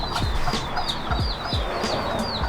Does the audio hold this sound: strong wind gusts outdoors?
no